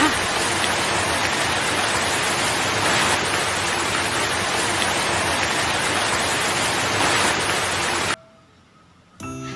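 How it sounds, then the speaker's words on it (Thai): Steady, dense rain falls for about eight seconds as an even, hissing wash of drops, then cuts off abruptly to near silence. "ส่งผลให้ก้อนเมฆนั้นตกลงมาเป็นสายฝน"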